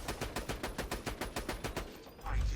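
Gunfire in Borderlands 2: a magazine emptied in about ten rapid, evenly spaced shots, close and loud, followed by a heavier low thump as the burst ends.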